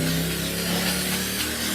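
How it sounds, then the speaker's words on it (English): Nonstick cooking spray hissing onto a baking pan in a home kitchen, a short continuous spray heard close up and fairly quiet. "Let's spray our pan with a little nonstick spray."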